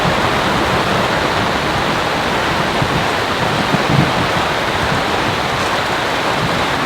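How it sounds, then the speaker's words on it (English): Heavy storm rain pours steadily onto a camp tarp, a dense, unbroken roar of water that holds loud and even throughout, with no voices. "It is unbelievable how much water has fallen, how much rain."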